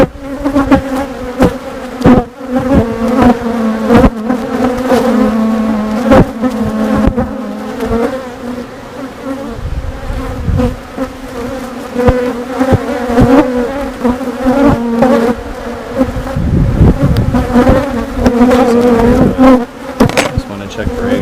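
Honey bees swarm around an open hive, giving a dense, loud, continuous buzzing drone close by, with small swells and a few sharp knocks throughout.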